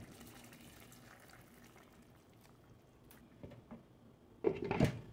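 Water poured into a pot for cooking chicken calderita with tomato sauce, a short gurgling splash that starts loud near the end after a quiet, low kitchen background.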